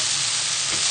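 Raw garlic sizzles in a hot pan, a steady bright frying hiss that stays loud and close for the whole short moment.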